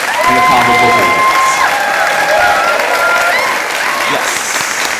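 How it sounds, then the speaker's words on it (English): A large audience at a children's Africana book awards dinner applauds loudly and steadily, a dense wash of clapping with some cheering, while a voice speaks over it. "give a rousing applause for Brenda Randolph and the CABA Book Awards"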